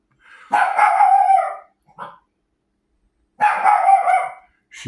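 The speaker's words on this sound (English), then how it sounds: "She's barking at that black cat" A female dog named Daisy barks at a black cat, letting out two long, loud howling barks separated by silence, with a short yip between them and another starting at the end.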